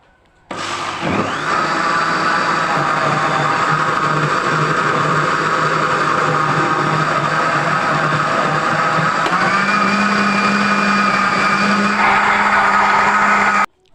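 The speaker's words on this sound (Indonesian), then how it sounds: "Lalu kita blender kembali sampai semuanya tercampur rata." An electric blender spins pie filling mixed with sugar and cornstarch, starting with a sudden loud whir and running steadily at high speed, its pitch shifting slightly as the mixture smooths out, before it stops abruptly.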